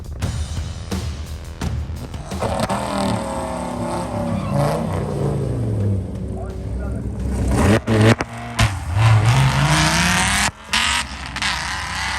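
A drag racing truck, an SRT10 at Hot Rod Drag Week, roars hard under acceleration, its engine note climbing through gears with loud sustained power and sharp breaks near the end, with faint voices around.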